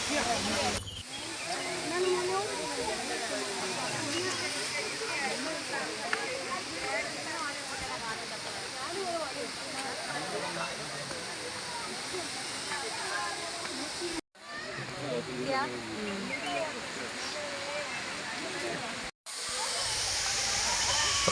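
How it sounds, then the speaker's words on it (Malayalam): The first waterfall at Thusharagiri, heard from close by, sends out a steady, dense roar of rushing, splashing water that fills the whole scene, broken only by two very brief cuts. "ആദ്യത്തെ വെള്ളച്ചാട്ടത്തിൻ്റെ കുറച്ചുകൂടി അടുത്തു നിന്നുള്ള കാഴ്ചകളാണിത്"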